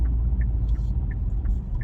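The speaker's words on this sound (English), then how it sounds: "there's a disgusting looking car behind me" A passing car behind someone outdoors, a steady low rumble of engine and tyre noise that stays loud and even throughout, with no talking.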